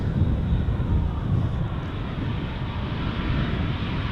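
A JetBlue Airbus A321neo departing Amsterdam Schiphol for Boston gives a loud, continuous low jet engine rumble, close and steady throughout.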